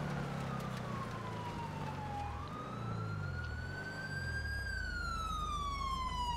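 Police siren of a sheriff's unit in GTA 5, a loud continuous wail that sweeps down, then climbs and falls again, over a low engine rumble.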